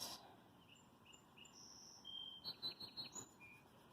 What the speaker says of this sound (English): I love hearing that bird song.